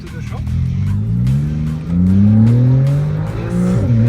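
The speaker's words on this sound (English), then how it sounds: "Look how this car stops." Porsche with upgraded performance brakes, heard from inside or near the car as the engine note rises and falls, then drops sharply with a brief tire squeal at the stop; loud, steady road noise throughout.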